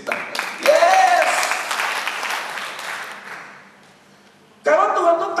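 A church congregation claps and cheers during a sermon, a swelling wash of applause with a voice speaking over it, fading low before the preacher's voice returns loudly at the end.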